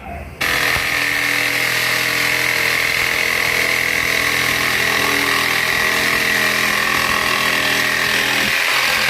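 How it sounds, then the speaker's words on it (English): A loud, steady power drill grinds through wood cutting a speaker hole in a 1964 Impala SS, a continuous harsh whine that begins abruptly after a brief quiet moment. "I'm ready to drill my pilot hole and go ahead and cut the center out"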